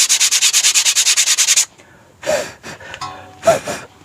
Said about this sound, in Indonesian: Jadi kita gosok dulu sedikit biar dia rata